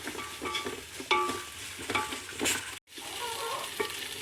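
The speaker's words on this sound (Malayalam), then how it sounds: "നമുക്ക് തക്കാളി നമ്മൾ അടിച്ചതാണ് ഒരു നാല് തക്കാളി ഉണ്ട് നമുക്ക് ഇതിലേക്ക് ഒഴിച്ചു കൊടുക്കാം" Blended tomato is poured into a pan of beef biryani, setting off a steady close sizzle with stirring scrapes and a brief gap near the middle.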